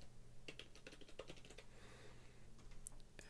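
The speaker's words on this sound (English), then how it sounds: "So I'm gonna type in a user and a bad password into this form." Quiet, steady clatter of keys as a username and password are typed into a login form on a computer keyboard, continuous close taps with no talking.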